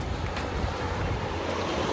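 Sea waves wash onto a beach in Valencia, a steady broadband roar of surf mixed with wind buffeting the microphone, continuous and fairly loud with no speech.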